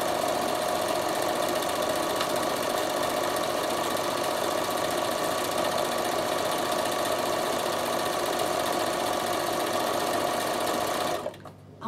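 Bernina sewing machine stitching steadily and continuously at close range, with an even rapid mechanical rhythm that stops abruptly at the end.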